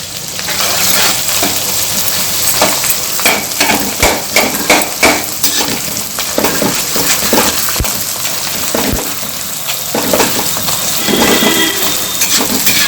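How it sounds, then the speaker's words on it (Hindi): Edible gum (gond) fries in hot ghee as it is added a little at a time. A loud, continuous sizzle and bubbling carries irregular crackles and the scrape of a stirring spoon. "इसमें हम थोड़ा थोड़ा करके डालेंगे और गोंद को भूनेंगे।"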